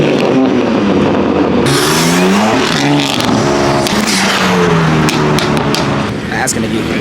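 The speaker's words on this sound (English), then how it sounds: "Then hear this M3 come." A BMW M3 accelerates past at a car meet, its loud engine revving and rising in pitch as it approaches and sweeps by, with crowd chatter and voices underneath throughout.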